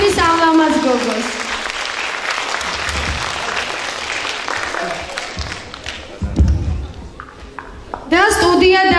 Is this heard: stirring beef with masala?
no